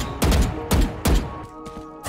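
Kay/O flashbangs from the video game Valorant go off three times in quick succession, each a loud broadband burst with a booming low thud, followed by fainter trailing bursts.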